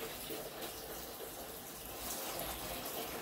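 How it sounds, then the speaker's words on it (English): Quiet, steady trickle of water being poured from a cup onto eggs, a soft continuous splashing and gushing heard alone without speech. "start to add some water before those eggs start to crack"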